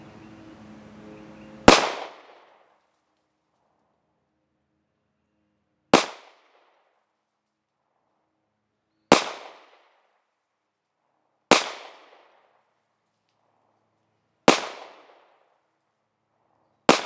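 A Sig Sauer P938 pistol fires six single gunshots outdoors, each a sharp, loud crack with a quick decaying tail, spaced a few seconds apart against near silence, with a faint murmur of noise before the first shot.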